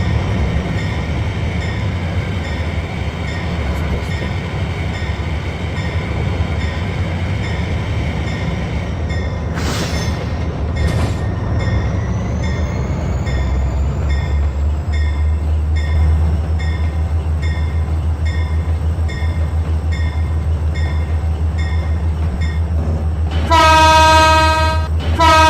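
Barendra Express passenger train rolling onto a loop line, a steady low rumble of wheels and carriages close by, with a sharp clank around the middle and a loud horn blast near the end, no talk.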